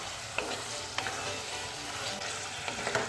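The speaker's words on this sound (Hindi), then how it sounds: "तो बस इन्हीं तीनों चीज़ों के साथ इसको हम इतना फ्राई करेंगे कि चिकन का जो कलर है वो चेंज हो जाए" Chicken frying with ginger garlic paste in a pan over medium flame gives a steady crackling sizzle, close up, broken by a few sharp scrapes and taps of a stirring spoon.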